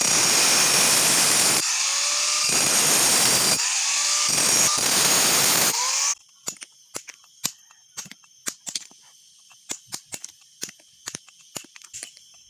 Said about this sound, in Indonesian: lalu kita bikin bulat menggunakan gerinda sesuai dengan garisnya